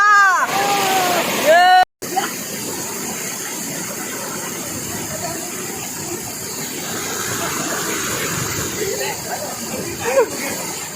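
Sawpna (Chinaraigudem) waterfall near Manuguru, Telangana, with a waist-deep pool: a loud, steady roar of falling water fills the scene throughout. A brief, tonal voice-like sound opens it, and voices come through faintly under the rush.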